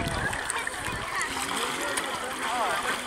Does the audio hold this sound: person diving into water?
yes